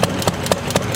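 An antique International Mogul engine idles on belt drive with a steady, regular beat, strong periodic thumps roughly every quarter second, loud and close.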